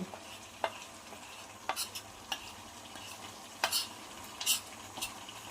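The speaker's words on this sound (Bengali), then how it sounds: "এবার এইগুলো আমি একসাথে নেড়ে চেড়ে নেব।" Cumin and garam masala powder stirred in a pan for dahi katla, a soft background sizzle broken by several crisp, scattered scrapes and clinks of a spatula against the metal, fairly quiet and without speech.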